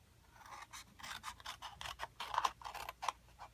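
Scissors or a blade trimming cardboard box sides along score lines, a run of short dry snips and scraping rubs close by, uneven in rhythm, with no talking.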